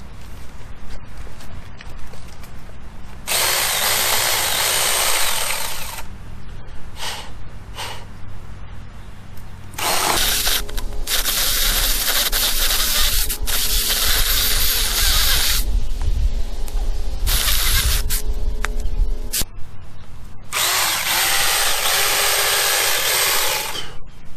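A cheap $35 two-stroke chainsaw engine runs in loud bursts, revving up and dropping back to idle repeatedly, with no talking.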